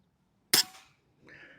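A Snowpeak SPA M60B / Umarex Zelos PCP air rifle fires one sharp, loud shot with a brief ringing tail, followed by a fainter metallic ping shortly after in an otherwise quiet setting.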